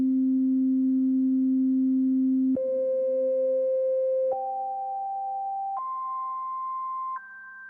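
A Lowry organ holds a low pure tone for a couple of seconds, then steps up through a series of higher sustained tones one after another, clean and steady with no talking.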